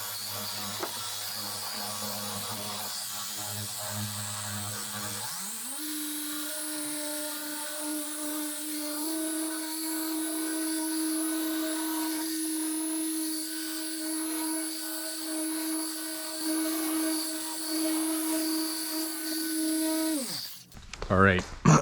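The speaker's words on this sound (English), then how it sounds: "Get back to this beast here polisher. This thing's nice. It's like a forced action" Forced-action car polisher cutting deep paint scratches: a steady mechanical whir that climbs in pitch as it spins up, holds a sustained hum for about fifteen seconds, then winds down, with a voice talking over it.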